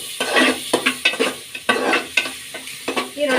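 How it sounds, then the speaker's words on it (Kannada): Onions are stirred and fried in a pan for a pea and mushroom palya, with a loud, close sizzle and rhythmic spoon scrapes about every third of a second, without talking. "ಈಗ ಈರುಳ್ಳಿ ಸೇರಿಸ್ಕೊಳ್ಳೋಣ. ಚೆನ್ನಾಗಿ ಮಿಕ್ಸ್ ಮಾಡ್ಕೊಳ್ಳೋಣ."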